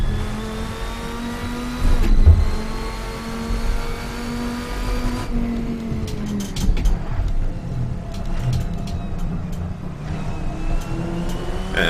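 Race car engine in the Assetto Corsa sim, a Sim Studio GT mod car with rear-wheel drive, droning loudly and close as it revs up through gears, pitch climbing and dropping with shifts, with no talk over it.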